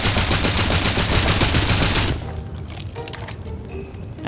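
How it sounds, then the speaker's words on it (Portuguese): Rapid bursts of explosive-ammo gunfire during a base raid in the survival game Rust, loud and dense for about two seconds, then a quieter stretch of scattered impacts and debris clatter. "vou tacar bala explosiva. Bala explosiva é mais fácil."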